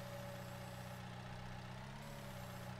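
Merlo telehandler in a farming video game, its engine idling steadily with a low hum and a faint high whine while parking, quiet, even and without voices.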